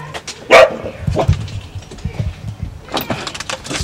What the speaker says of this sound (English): Don't let the dog eat me, Wes.